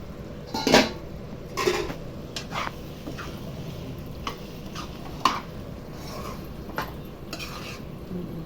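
A metal lid is set onto a cooking pot of prawn gongura curry, a sharp clank near the start followed by scattered lighter clinks and taps of cookware over a soft background hiss.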